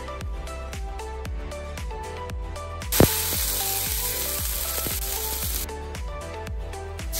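Oil on a hot pan being prepared for neer dosa, a sharp hissing spray of sizzle bursting in midway and holding for a few seconds over a steady rhythmic music bed.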